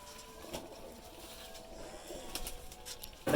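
Soft pigeon cooing murmurs through steady outdoor background noise, with a few brief rustles and a louder bump at the end.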